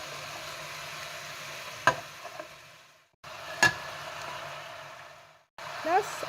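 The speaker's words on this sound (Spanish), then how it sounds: "Después agregamos las carrilleras que las tenemos reservadas." Beef cheeks go into a pan with softened vegetables, giving a steady low sizzle broken by short pauses and sharp clatters of utensils, heard close, while a voice narrates in Spanish.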